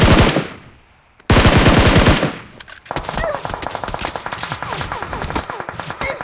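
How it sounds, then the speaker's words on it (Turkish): Bursts of PUBG Mobile gunfire: two loud blasts of rapid automatic fire, then a long stretch of steady, dense shooting with overlapping crackling shots. "Adam ne taraftan sıkıyor lan?"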